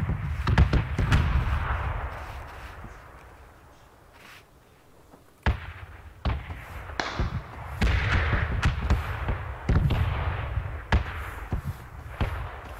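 Gunshots in the battle royale video game PUBG, sharp repeated reports in scattered bursts with a quieter lull midway, some shots close and loud and others more distant, with no talk over them.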